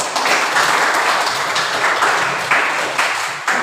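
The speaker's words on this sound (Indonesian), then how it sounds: "Berikan aplaus dulu." Applause from a high school physical education class, a dense burst of many hands clapping together, loud and close, lasting a few seconds.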